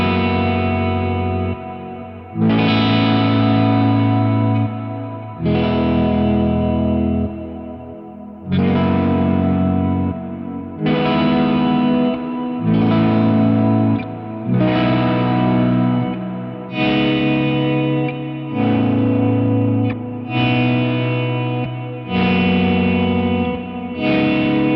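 Guitar chords run through the pitch block of an Axe-Fx III on firmware 31.03, with the S taper and threshold raised, strike roughly every two to three seconds, each a loud, thick, effect-laden chord sustaining and shimmering until the next.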